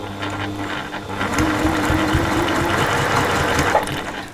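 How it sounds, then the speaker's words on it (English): A sewing machine back-stitching the turning gap of a fabric purse, a close, loud, steady mechanical whirr that speeds up partway through and runs continuously to the end, with no talking. "Little back stitch as well, because this is your turning gap, so you want it to be quite strong."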